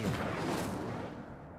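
A fire spell is cast in the video game Hogwarts Legacy, giving a loud, close whooshing roar of flame that swells at once and then slowly fades over a second or so.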